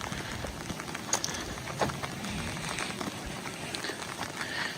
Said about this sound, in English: it's getting pretty breezy and cold rain out here